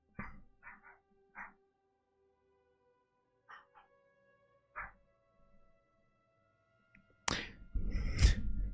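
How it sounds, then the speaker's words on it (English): A dog barks in short scattered bursts, a few quick yips and woofs spaced apart in a quiet room, ending in a louder, closer run of barking. "why is my dog being a Karen today"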